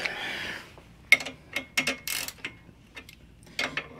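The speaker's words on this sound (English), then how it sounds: "Let's see if I can do it with the wrench now." A wrench turning a nut during rear shock absorber replacement on a 1999 Kia Sportage: scattered close metallic clicks and ratcheting taps in irregular bursts, quiet between strokes, with no talking.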